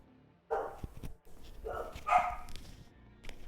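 Several dogs bark in a few loud, close bursts spread across a quiet room, with short gaps between the barks.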